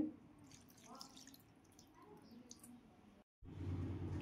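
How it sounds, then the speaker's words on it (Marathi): Water pours and drips into a bowl with a soft splashing trickle, briefly cutting out before resuming louder and fuller. "आणखी थोडं पाणी घालून घेते"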